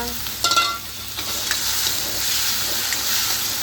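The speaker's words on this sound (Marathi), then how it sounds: "मसाला टाकलं की जरा परतून घ्या" Onion and grated coconut masala sautéing in a pan for a moth bean amti, a steady close sizzle with a few stirring scrapes near the start.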